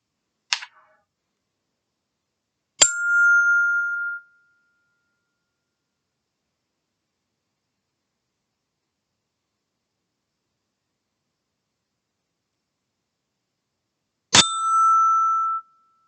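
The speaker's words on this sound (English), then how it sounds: "that chime doesn't work as well as the one at school" A hand chime or small bell, used to signal a relaxation exercise, is struck twice in near silence, each time as a bright, clear ring that fades out over about a second. A brief tap sounds just before.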